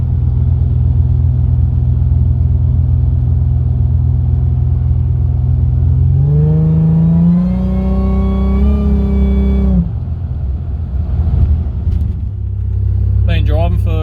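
A supercharged V6 car drives steadily with a loud, constant engine drone, then revs up in a rising pull before settling back to a low cruising hum, with some cabin noise toward the end.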